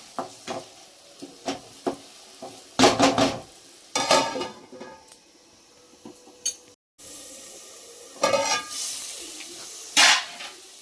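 Tomato and chicken paste frying in a pan for green chilli chicken fry, with bursts of sizzling and the scrape and clatter of a spoon stirring against the metal, in irregular loud spurts separated by quieter simmering.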